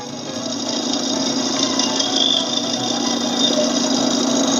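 A lathe spins a wooden bowl while a finishing cut takes fine shavings, a steady loud hum with a constant whirring drone and light scraping throughout.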